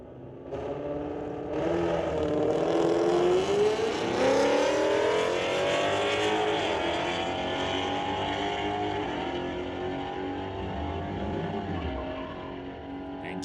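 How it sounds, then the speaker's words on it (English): A Camaro and a 2021 Mustang launch down a drag strip at Mission Raceway Park street-legal night, engines roaring loudly with rising, sweeping revs through the gears, then fading as they tear away into the distance. "Christopher Smith and his Camaro going up against Harj Kima with a 2021 Mustang for GSS Auto"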